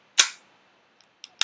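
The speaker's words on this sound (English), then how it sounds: "It's got a very strong recoil spring in there, and really, it's very fun to shoot." WE XDM Compact 3.8 airsoft pistol firing: a sharp, close snap followed by a short tail, then a faint click and two more crisp shots in quick succession.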